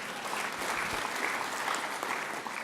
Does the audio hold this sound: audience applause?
yes